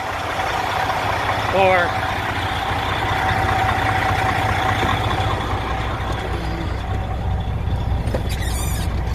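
A semi truck idles at night in wind, a steady low engine drone with a faint chirping sound and someone talking over it.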